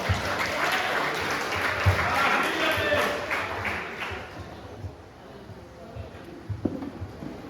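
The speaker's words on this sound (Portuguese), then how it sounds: "quem acredita dá uma salva de palmas" Church congregation applauding during a Holy Communion service, a loud sustained burst of clapping that fades after about four seconds into quieter room sound with scattered claps and voices.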